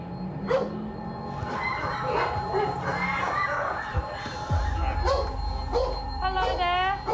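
A dog yips, barks and whimpers in short high bursts, close by, mixed with people talking and busy background noise at an ambulance call.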